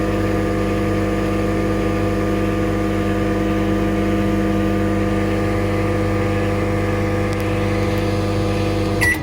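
Microwave oven running steadily while heating a chocolate bar, a constant loud hum with a low electrical drone lasting throughout, with a faint click near the end.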